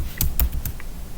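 A few quick keystrokes tap on a computer keyboard while someone types an FTP address on a Windows Server 2019 machine, close and clear with no talking.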